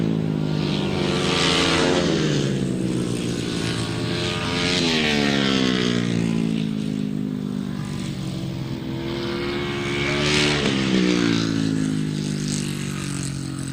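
Grasstrack motorcycles at an international grasstrack meeting roar continuously as they race across the finish line, a loud sustained engine drone rising and falling in pitch as bikes pass nearby.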